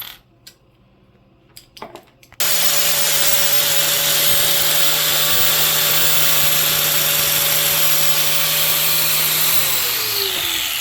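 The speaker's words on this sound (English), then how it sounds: "I can grind that flat and still have an Allen key" Bench grinder flattening the end of an Allen key: a few light clicks and taps, then a loud, steady whine with harsh grinding hiss that holds for several seconds before the motor winds down.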